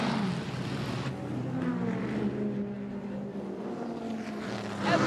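A Porsche 911 race car pulls out of the pit lane during a 2016 race at Canadian Tire Motorsport Park, its engine a loud, close, continuous roar that rises and shifts as it accelerates away.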